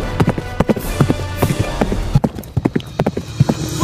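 Hooves clip-clopping in a quick, uneven galloping rhythm, close and busy, meant as reindeer on a Christmas chase, with clattering clops layered over one another throughout.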